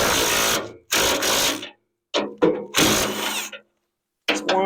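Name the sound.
loosening bolts on a snowblower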